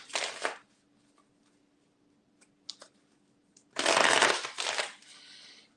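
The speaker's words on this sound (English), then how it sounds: "2 more shuffles." Playing cards are shuffled in quick riffling bursts: a brief one, a faint flutter, then a longer, louder shuffle that trails off.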